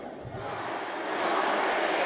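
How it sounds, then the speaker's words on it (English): A large crowd of people at a tailgate party in Lehigh Valley, Pennsylvania, shouting together loudly, a dense sustained roar that swells and grows louder toward the end. "instead of 0, we're gonna yell, "Start the party," as loud as we can"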